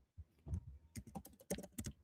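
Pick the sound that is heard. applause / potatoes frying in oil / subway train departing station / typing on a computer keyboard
typing on a computer keyboard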